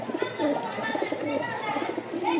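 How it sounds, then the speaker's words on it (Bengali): Pigeons of fancy breeds in a seller's collection, cooing in soft repeated throaty warbles, close and fairly loud, with a bit of chirping and background bustle mixed in. "আমি নটটার ডাক দেখাই একটু"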